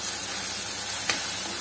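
Ginger garlic paste sizzles steadily in a hot pan for a Godavari Pulasa fish curry, a dense, loud, continuous frying hiss with one brief sharper crackle midway.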